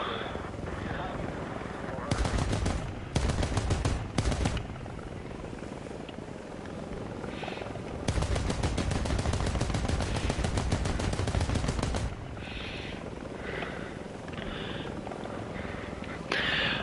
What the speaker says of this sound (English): Alright, let's machine gun something else.